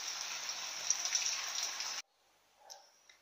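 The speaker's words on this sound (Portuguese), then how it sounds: "Tá chovendo bastante" Heavy rain pours in a steady dense hiss for about two seconds, then cuts off to near silence with a faint patter.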